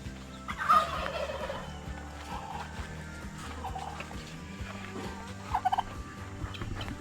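Several turkeys gobble in a loose chorus, bursts of warbling calls overlapping across the scene at moderate distance, with no talking.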